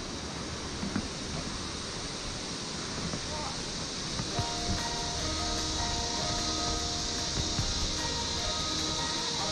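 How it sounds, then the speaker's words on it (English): Barron Falls at Kuranda in tropical north Queensland, heard as a dense, continuous roar of falling water that fills the whole scene, steady and loud, with faint voices and some tonal background sounds mixed in. "Oh, the waterfalls might be better here."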